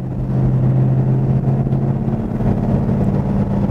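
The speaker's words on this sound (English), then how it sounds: "Listen to that exhaust." A silver 1969 Dodge Super Bee idles with a deep, steady exhaust rumble, loud and close, a continuous throaty burble without revving and with no voices.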